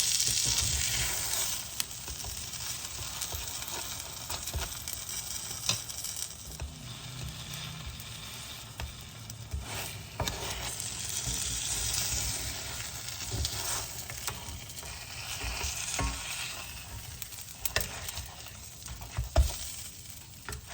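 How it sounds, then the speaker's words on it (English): A pesto grilled cheese sandwich sizzles in butter in a hot skillet, giving a steady close-up crackle and hiss with occasional scrapes as it is moved around the pan. "Move it around the skillet to absorb the heat, but also to absorb all that butter."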